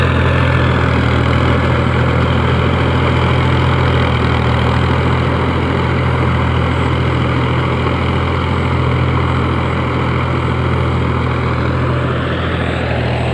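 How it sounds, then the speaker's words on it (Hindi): Tractor engine running steadily while puddling a wet field, a loud continuous low chugging drone close by that stays level for the whole stretch, with no talk over it. "अभी यहाँ चिखला कर रहा है, थोड़ी देर में अपने बगीचे के पास जाएगा।"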